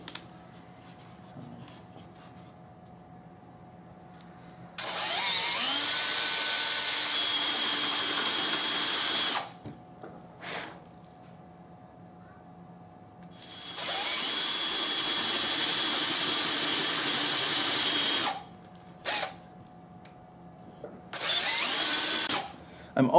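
Power drill with a 1.5-inch spade bit boring holes in scrap wood for a bluebird house, two long loud whining bursts and a shorter third, separated by quiet pauses with brief bumps.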